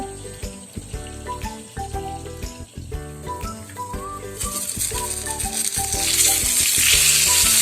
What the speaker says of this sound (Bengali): এবার আমরা বেগুনটা ভেজে নেব।